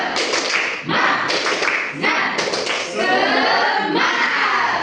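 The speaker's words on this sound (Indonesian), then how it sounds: "Pak pandu ya, tepuk semangat." A university class doing a rhythmic spirit-clap ice breaker during a microteaching session, loud close group clapping in short patterned bursts, mixed with chanting voices.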